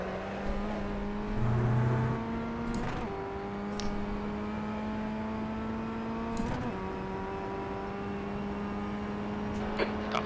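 Formula Ford FF1600 racing at Oulton Park in the iRacing game, its engine a steady sustained drone that shifts pitch a few times through the lap, moderately loud and alone.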